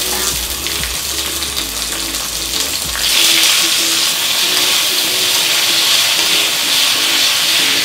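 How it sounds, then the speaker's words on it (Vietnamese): Tomatoes dropped into hot oil in a pan and stir-fried, a loud hissing sizzle that swells after a few seconds and stays strong, with a low rumble underneath early on. "phần dầu của trong chảo chúng ta đã nóng lên thì chúng ta sẽ cho cà chua vào"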